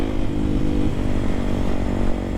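Motorcycle on the street pulling away and shifting up through the gears, a loud, close, continuous engine drone with rising and dipping pitch as each gear engages, no voices.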